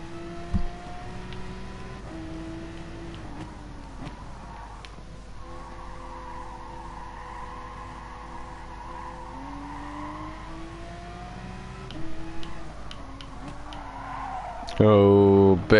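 Car tyres sliding and scrubbing in Gran Turismo Sport on the Spa circuit at about 150 mph, a steady drawn-out skid over continuous engine drone with a sharper squeal burst near the end, someone talking over it.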